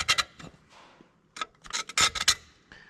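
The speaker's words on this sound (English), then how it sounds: "that's got all the big stuff scraped off" Scraper rasping caked grime off a part of a John Deere 4840 tractor engine during an overhaul, several short close scraping strokes in uneven bursts with brief quiet gaps.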